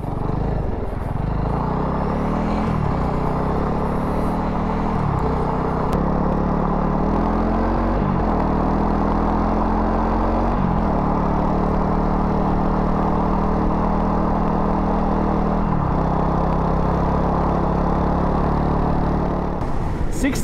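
A Honda CRF300L motorcycle rides along the road with a steady, loud engine drone mixed with wind rush. The pitch climbs and drops with each gear change, and a rider speaks intermittently over it.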